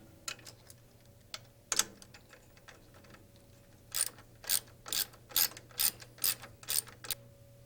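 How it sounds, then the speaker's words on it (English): A bolt is worked loose and two large fender washers are removed from a helicopter's cyclic nylon pivot bushing: a few scattered metallic clicks, then a run of evenly spaced ratcheting clicks, close and quiet. "Remove the bolt and the two large fender washers."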